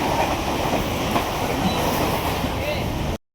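A train runs on its rails, heard from inside the carriage as a steady, loud rumble with faint clatter and wheel noise throughout, with a possible murmur of voices underneath before it cuts off abruptly.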